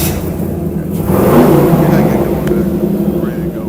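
A 1958 Cadillac with air ride and a swapped 6.0 LS engine, its exhaust rumbling steadily and swelling as the engine revs midway, with people talking over it.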